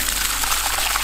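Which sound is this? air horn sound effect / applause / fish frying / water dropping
water dropping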